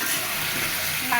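Spice paste thinned with a little water, stirred and sautéed in a pan, gives a continuous close hiss and soft bubbling sizzle with faint scraping.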